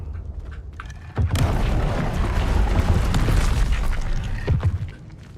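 A Confringo fire spell blasts in Hogwarts Legacy with a sudden loud booming burst, followed by a few seconds of rumbling, crackling explosive roar that tapers off near the end.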